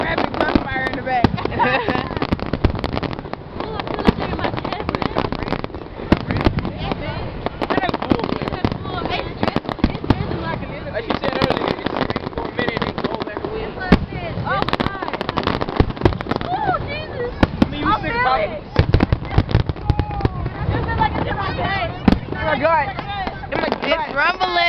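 Fourth of July fireworks and firecrackers go off in a dense, loud barrage of rapid crackling pops and bangs that runs throughout, with people talking over it.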